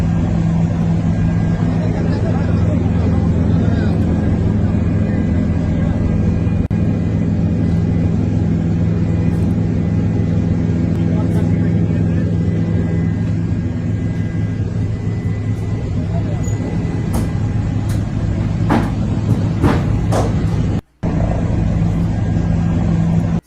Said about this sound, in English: a video of one of his sons captured in a helicopter has also surfaced.